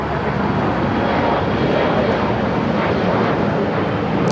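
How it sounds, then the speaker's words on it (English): Airliners, including a Boeing 777 and a United Dreamliner, taxi toward runway 25 right at LAX; a steady broadband jet engine roar fills the scene, constant and fairly loud with no breaks. "So got this 777 as well as the United Dreamliner marching down to 25 right."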